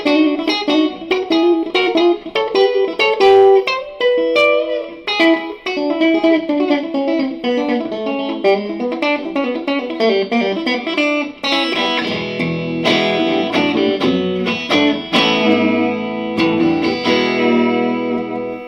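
DiPinto Satellite electric guitar played on both pickups through a Fender Blues Jr amp, a loud, steady run of strummed chords and picked notes with a slightly driven, effected tone, no voice over it.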